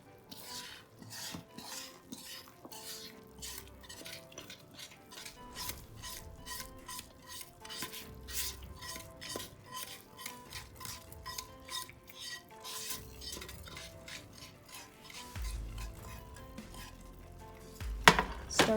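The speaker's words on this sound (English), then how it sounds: "Stir that." A utensil stirs cheeseburger soup in a single pot, making repeated scraping and clinking strokes in a steady rhythm. The sound is close but fairly quiet, with a sharper knock near the end.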